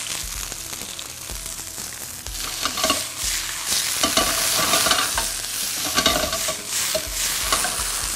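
Pickled mustard greens and bean sprouts are stir-fried in a hot pan, with a continuous sizzle and repeated scraping and tossing strokes of a utensil, all without voices.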